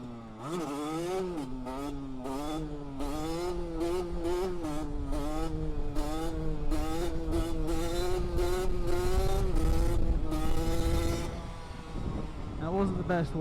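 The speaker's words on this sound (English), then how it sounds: "here's a quick clip of a power wheelie, which is not balance point, it's just you can see the wheelie" A small 50cc-125cc motorcycle revs hard through a power wheelie, engine pitch climbing and dropping repeatedly as it shifts up through the gears, loud and close for about eleven seconds before easing off.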